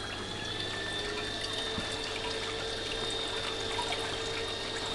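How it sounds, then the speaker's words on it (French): Steady bubbling water in a themed apartment decorated like an aquarium with waves and bubbles, a continuous soft gurgle and hiss at moderate level with faint tonal hum, no voices. "un peu de bulles."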